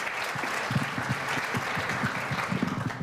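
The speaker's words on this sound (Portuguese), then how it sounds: "Com um currículo desse, uma salva de palmas" Audience applause in a lecture hall welcoming a speaker, a steady wash of many hands clapping at moderate distance, sustained for a few seconds with no voices over it.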